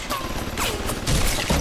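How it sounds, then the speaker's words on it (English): Rapid bursts of gunfire in the Bioshock first-person shooter, loud and close, several sharp shots running together with mechanical clatter and no talk over them. "why is it that I can keep hearing a gunshot all the damn time?"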